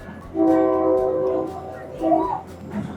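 A Thai train pulling out of the station at departure time, its horn sounding in long sustained tones up close, with a second shorter blast after a brief pause over rumbling background noise.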